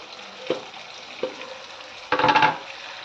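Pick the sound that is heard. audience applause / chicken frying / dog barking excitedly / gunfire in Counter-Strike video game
chicken frying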